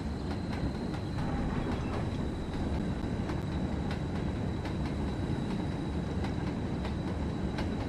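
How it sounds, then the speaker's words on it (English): HGA bogie hopper wagons rolling along track in the Train Sim World game, a steady rumbling roar with faint periodic clicks from the wheels, continuous and fairly close throughout. "Another thing that I like actually is the wagon sounds on these HGAs."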